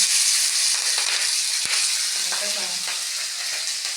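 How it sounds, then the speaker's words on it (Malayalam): Chopped green chillies and curry leaves frying in hot oil, a loud continuous hiss and crackle with occasional spatters, heard close up without talk. "ഇത് കുറച്ച് കറിവേപ്പില, നല്ലതായിട്ട് മൂപ്പിച്ച്"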